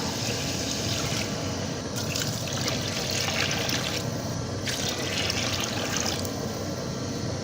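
Water is poured into rice for chicken kabsa, giving a steady, continuous rushing trickle close by that swells slightly in brightness in two stretches, with no talk.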